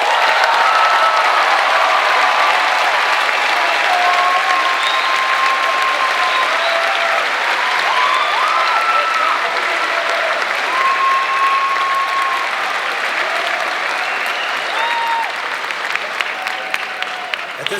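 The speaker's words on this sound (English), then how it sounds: "Let's give our graduates another big round of applause." A large audience at a Class of 2022 high school commencement ceremony gives graduates a long, sustained round of applause, dense and steady with scattered cheers and whistles, tapering slightly toward the end.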